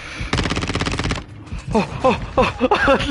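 Rapid automatic gunfire from a heavy-recoil gun in a Modern Warfare 2 multiplayer match: a loud continuous burst of close shots for about a second, followed by someone talking over further game sounds.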